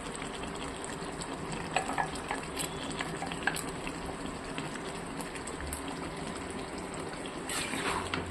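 Meat frying with garam masala, a steady low sizzle with scattered scraping clicks from stirring, moderately quiet and continuous throughout.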